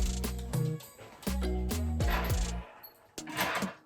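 Screws driven into a wooden furniture piece, a desk being converted into a tall boy, by a power driver whose whirring bursts rise and stop in short runs, close and fairly loud.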